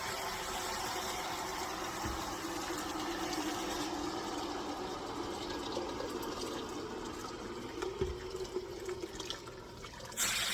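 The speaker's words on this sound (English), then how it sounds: "Now I'm going to add hot water." Hot water pours steadily into a pot with a continuous rushing splash, close by, over a low background hum.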